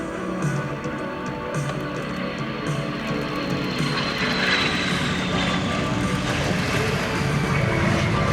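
A British de Havilland DH-115 Vampire jet makes a display pass at an airshow, a continuous loud jet roar with a faint rising whine that builds steadily toward the end.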